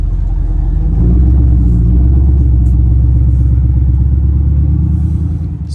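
A 2008 Ford F450 with a 6.4L turbo diesel engine rumbles close by, a deep steady idle-like drone that swells slightly and holds, with no voices.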